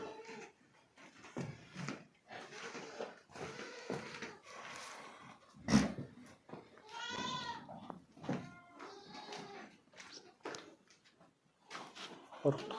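A mother goat and other goats bleat in a series of separate, wavering calls, some short and some drawn out, fairly close with quiet pauses between them.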